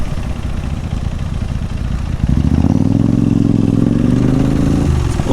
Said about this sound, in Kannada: ಒಳ್ಳೆ ಎಕ್ಸಾಸ್ಟ್ ನೋಟ್ನು ಹಾಗೆ ಇದೆ.